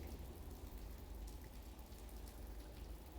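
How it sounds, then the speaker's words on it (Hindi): Heavy rain falls steadily in a dense, even hiss with no pauses, quiet and continuous with no voices. "बारिश इस वक्त तेज हो रही है।"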